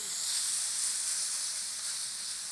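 A steak just flipped in a hot pan sizzles with a steady, loud hiss that holds even throughout, with no pauses and no voices.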